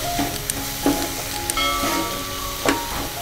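Potatoes and eggplant fry in a kadai with spices, a constant sizzle punctuated by several sharp scrapes and clinks of a spoon stirring the pan.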